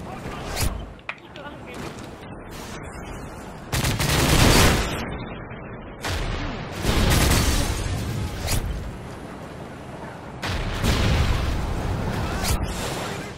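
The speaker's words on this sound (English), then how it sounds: "that RPG just missed me" Heavy gunfire and booming rocket blasts from a Modern Warfare 3 Infection match roll through in loud repeated bursts, with rapid shots and explosions rising and fading over the whole stretch.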